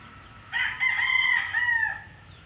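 A single rooster crows nearby, one long drawn-out call rising and falling over quiet background, without any clear clucking.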